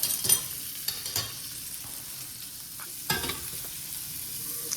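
American Wagyu steak frying in butter in a pan, a steady bright sizzle with crackling spits and occasional louder bursts as it is moved, close up and without speech.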